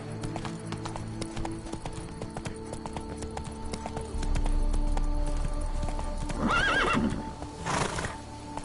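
The horse Roach in a video game trots with steady clip-clop hooves, then gives two clear neighs near the end, close and prominent over a soft music bed.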